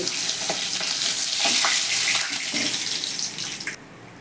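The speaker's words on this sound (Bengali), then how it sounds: "তেল গরম হয়ে গেছে মাথাটা দিয়ে দিচ্ছি" A hilsa fish head fries in hot oil, a loud, broad crackling sizzle that hisses continuously up close with occasional pops and stirring knocks before easing off near the end, with no voices.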